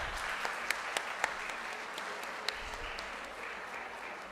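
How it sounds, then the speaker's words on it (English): Sustained round of applause from a seated audience at a dental conference on orodental care, steady dense clapping with a few sharper individual claps standing out, filling the space without speech. "Please give a huge round of applause."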